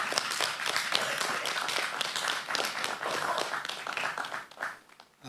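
An audience at a campmeeting business meeting gives a round of sustained, dense hand-clapping that carries on evenly before thinning out and fading near the end.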